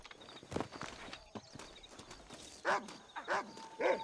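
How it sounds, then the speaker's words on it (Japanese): A dog in the video game Red Dead Redemption gives three short, fairly close barks in quick succession, following a stretch of clopping horse hooves and faint ambient noise. "ワンコがなんか言ってる。"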